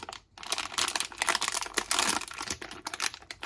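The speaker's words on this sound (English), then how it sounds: "There's a little plastic bag on the inside." Continuous crinkling of a thin plastic bag, close and fairly loud, with busy rustling bursts throughout and no talking.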